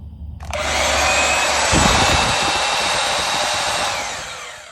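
A portable band saw, trigger zip-tied on and switched through a foot pedal, starts up with a sudden loud whirring motor whine that runs steadily for several seconds, close and alone.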